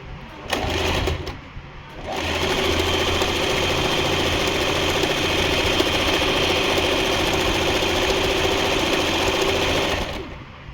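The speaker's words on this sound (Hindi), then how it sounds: "तो एक काज ये मशीन से बना" An Usha Janome Stitch Magic electric sewing machine stitches a buttonhole, running with a steady, continuous mechanical whir for about eight seconds after a couple of brief starts, fairly close and alone.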